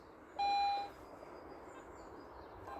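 A Garrett metal detector gives a single clear, steady electronic beep lasting about half a second over an outdoor background hiss, then quiet.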